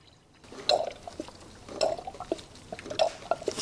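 Distilled water poured into a Subaru coolant reservoir, an intermittent gurgling trickle with small splashes and glugs as the stream starts and stops, heard up close.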